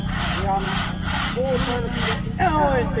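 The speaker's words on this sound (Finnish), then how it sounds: "Nyt vähän saha taipuu, mutta miehet eivät taivu" A two-man crosscut saw bites through a log at a sawing competition in Hämeenlinna, a loud rhythmic back-and-forth rasp of steady strokes, with an announcer talking over it.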